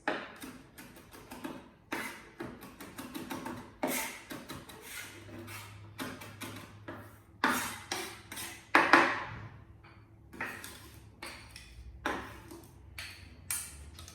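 Mushroom risotto with garlic and fresh flat-leaf parsley is stirred in a pan, a series of close clinks, scrapes and taps of utensil on metal in uneven quick bursts, with no talk.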